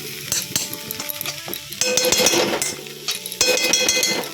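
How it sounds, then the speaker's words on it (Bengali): Chira pulao with pistachios sizzles in a pan as ghee goes in at the end, with clinks and scrapes of a utensil against the pan over a steady frying hiss. "চিড়া পোলাও হয়ে গেছে, আমি একটু লাস্টে ঘি দিয়ে দিচ্ছি"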